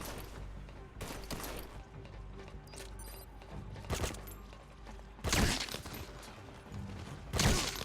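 Gunfire in the video game Metal Gear Solid 5: The Phantom Pain, a few sharp, loud shots standing out over a low in-game rumble, with the last two blasts about two seconds apart.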